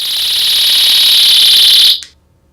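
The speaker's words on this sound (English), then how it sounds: "It releases an alarm equivalent to an ambulance siren." A personal sound grenade alarm blares a piercing, steady high-pitched shriek at very close range for about two seconds, then cuts off abruptly into near silence.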